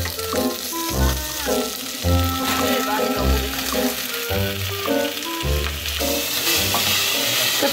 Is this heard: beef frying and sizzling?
yes